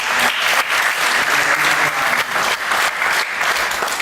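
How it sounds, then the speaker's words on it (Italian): Loud, dense applause from an audience at a political meeting in Castelnuovo del Garda, sustained for the whole stretch with slight surges and dips and no one speaking. "Io chiedo prima l'applauso per i ragazzi di Castelnuovo che hanno organizzato questa"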